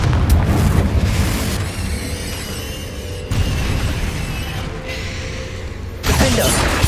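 Confringo fire spells detonating in Hogwarts Legacy, a series of loud booming bursts with crackling debris and magical whooshes, the blasts separated by short lulls.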